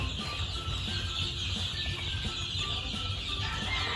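Gamefowl chickens cluck and chirp against a steady, noisy outdoor farm background, the calls overlapping and continuing throughout without pause.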